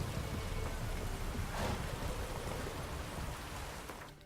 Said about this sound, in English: Riding my horse in a storm.